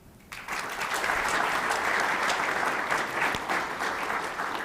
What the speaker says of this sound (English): may I ask for a big round of applause for the GPA team